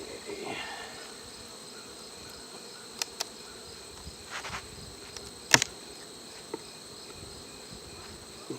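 Buckfast honey bees buzz around an open breeder hive as a faint, steady hum, with occasional brief clicks and knocks from handling the hive boxes.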